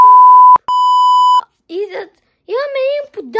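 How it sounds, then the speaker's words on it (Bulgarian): An electronic alarm clock gives off a loud, sustained, high-pitched beep, briefly cut, then resumes before stopping, followed by people speaking. "Това будилник, който да ти бучи всеки път, когато трябва да се събуждаш."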